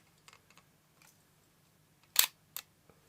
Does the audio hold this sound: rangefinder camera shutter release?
yes